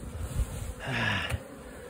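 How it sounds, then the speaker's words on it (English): Bees buzz around a hive in a yard stacked with honey boxes, a close, steady insect drone that swells briefly in the middle. "Bees wouldn't clear out the stack of boxes."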